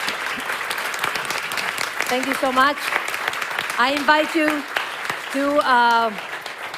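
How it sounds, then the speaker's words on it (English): Audience applause for four panelists at a digital education hackathon main stage event in Madrid, a broad steady clatter of many hands with a speaker talking over it at intervals. "We give them a round of applause, please."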